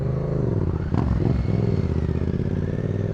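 A motorcycle is ridden through a Brazilian favela, its engine revving loudly and close as it pulls away, with a brief clatter partway through.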